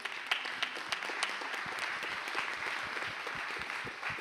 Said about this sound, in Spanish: Pueden aplaudir ustedes a Angie